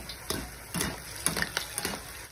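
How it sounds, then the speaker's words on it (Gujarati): Cabbage manchurian balls fry in oil with a close, crackling sizzle, broken by several distinct clicks and taps of a utensil at an uneven pace, no talking. "ને ઉપરથી આપણે આવી રીતના તેલ નાખીશું એટલે જેથી કરીને સરસ રીતે તળાઈ જાય।"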